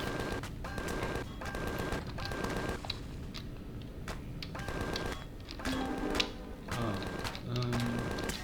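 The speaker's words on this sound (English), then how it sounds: "I think it's shooting at the core" Repeated bursts of enemy gunfire in the Empyrion sci-fi survival game, rapid automatic volleys recurring at a steady pace and mixed with other game sounds.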